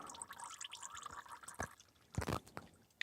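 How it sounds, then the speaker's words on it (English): Engine oil dripping and trickling from the drain of a John Deere D155 lawn tractor, a faint steady liquid patter with a few louder splashing drips near the end. "let oil drain completely"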